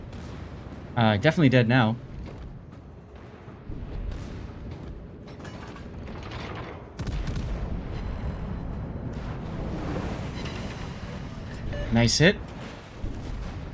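Cruiser main battery salvos from a Cherbourg, a Tier 8 French cruiser, in World of Warships, heard as two loud bursts with mechanical clatter between them, partly under talk.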